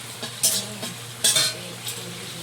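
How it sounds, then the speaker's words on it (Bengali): Duck meat sautés in an oily pan with a low, continuous sizzle, broken by a few sharp scraping strokes of a spatula stirring the pieces. "মাংস কষানো চলছে"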